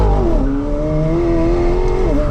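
A McLaren 750S supercar with an internal combustion engine accelerates on damp roads, its loud, close engine note rising in pitch through the revs, then dipping at a gear change and climbing again, with no talking.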